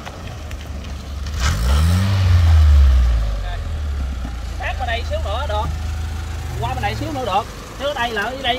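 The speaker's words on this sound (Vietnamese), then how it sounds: "Em cho cái xe kia nổ máy luôn nha." A car being readied for a stunt jump starts up with a loud low roar that swells and fades, then settles to a rumble while people talk nearby.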